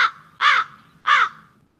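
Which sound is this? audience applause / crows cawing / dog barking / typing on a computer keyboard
crows cawing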